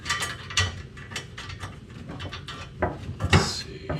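Ratchet starting bolts on an interior trim panel of a 1978 Corvette C3, close clicking pawl bursts in quick uneven runs with a few louder metallic knocks near the end.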